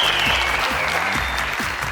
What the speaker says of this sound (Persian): با تشویق دوستان